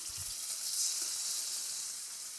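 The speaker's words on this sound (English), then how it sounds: "So you can hear that nice sizzle." Steady hissing sizzle of chicken frying in a hot oiled pan, close and even, with a faint clink at the start.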